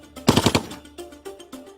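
A German Spandau machine gun, air-cooled with a perforated barrel jacket, firing 7.92 mm rounds in a fast burst of about five sharp, loud shots, followed by a few fainter single reports.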